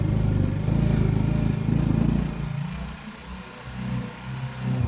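A motorcycle engine drones close by on a village road, a loud steady rumble that fades and drops away partway, then returns more faintly.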